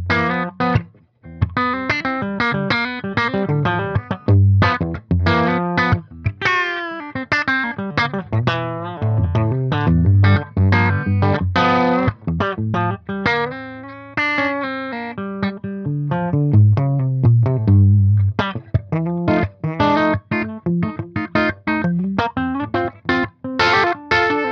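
Bright, clean PRS Tremonti MT15 electric guitar on the treble pickup with no effects plays a run of strummed chords and picked notes that ring continuously, with no voices.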